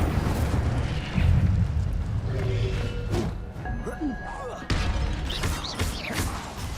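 Fire spell cast in Hogwarts Legacy: a loud whooshing, roaring burst of magical flame with booming, crackling impacts, layered over busy game sound effects and music.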